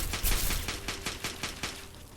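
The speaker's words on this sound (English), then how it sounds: "But these guys are still practicing and shooting." Repeated gunshots from characters practicing shooting after dark in Fallout 3, a steady rhythm of fairly faint, evenly spaced cracks.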